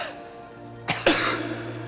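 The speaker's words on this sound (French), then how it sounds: "Il suffit de tousser." One sharp cough during a Pilates session, close and fairly loud against a steady background hum, with no talking.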